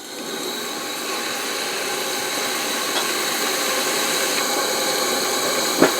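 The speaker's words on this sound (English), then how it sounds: "we're going to kill the blower and turn on the locomotive's blower" A steam locomotive's blower runs with a steady, loud rushing roar that holds even and unbroken, with a faint knock near the end.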